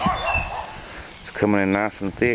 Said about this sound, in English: I apologize about the wind and the barking dog.